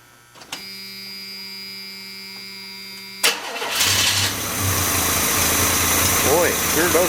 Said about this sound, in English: Alright, crank her up again